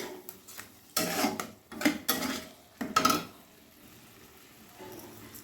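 A utensil scraping and stirring spices in a pan for a Bengali dish, several bursts of clattering metal on cookware with quieter pauses between, close by and with no talking.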